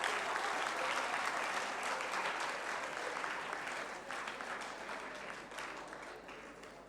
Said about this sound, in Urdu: بھرپور تالیوں سے ان کا استقبال کیجیے.